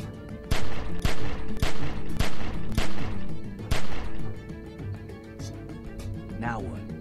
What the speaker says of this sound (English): As soon as you start shooting,